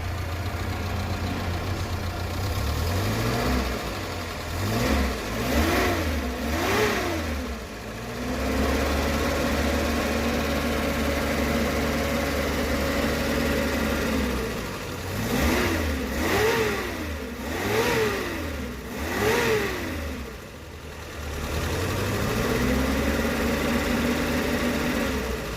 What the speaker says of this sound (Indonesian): ini untuk suara mesinnya bos